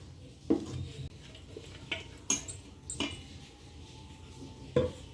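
Idli batter for Kanchipuram idli is stirred together in a metal vessel, with scattered clinks and scrapes of a spoon against the pot at irregular intervals, quiet and close with no talking.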